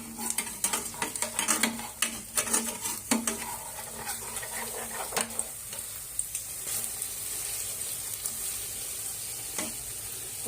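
Malpua fries in a pan with a close, crackling sizzle broken by scraping and clattering strokes of a utensil against the pan. The stirring is busiest early, then the sizzle settles and continues.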